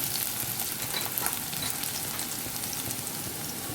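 Manchow soup vegetables sautéing with red and green chili sauces over a high gas flame, a continuous dense sizzle with faint crackles, steady and close without speech.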